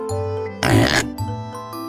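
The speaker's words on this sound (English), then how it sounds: "pig," A farm pig gives one short, rough oink over soft background music.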